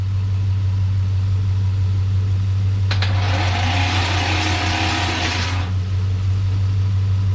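A third-generation Camaro, not started in ten years and needing a fuel pump, cranks over in a roughly three-second rough burst above a constant low hum.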